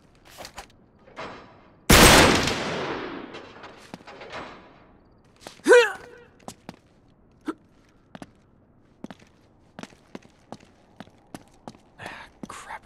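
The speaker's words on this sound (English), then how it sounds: "Back up, I'll shoot the lock." A single loud, close gunshot is fired to blast open a lock in Uncharted 3, and its echo decays for a few seconds. Scattered footsteps and small clicks and thuds follow in a quiet space.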